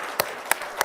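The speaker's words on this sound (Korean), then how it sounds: "다시 한번 일어서서 박수 한번 쳐주시기 바랍니다" Three sharp, evenly spaced hand claps from a church congregation at a Sunday afternoon praise service, faint and somewhat distant.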